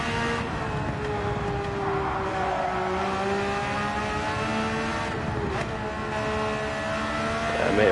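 A race car engine in Gran Turismo 7 pulls back onto the throttle, its steady whine holding and rising, with a brief dip in the middle as the driver shifts and then climbs again, loud and continuous throughout.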